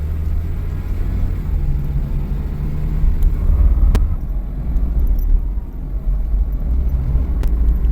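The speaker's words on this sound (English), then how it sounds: "I'm just gonna drive the car just up and down the street a couple times and just get that fluid moving." An Acura RSX driven along a street after a new intake and a transmission fluid change, giving a steady low engine rumble from inside the car that swells slightly midway, with a couple of faint clicks.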